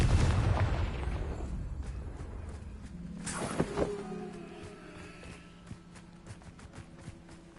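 In the Hogwarts Legacy video game, a Confringo spell goes off with a heavy, booming blast that rumbles and fades out over several seconds, followed by scattered smaller crackles and a low lingering drone.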